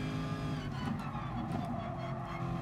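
A race car engine roars steadily at Willow Springs in the video game Gran Turismo Sport, holding a dense, continuous drone with slight pitch shifts under braking, fairly quiet and with no talk.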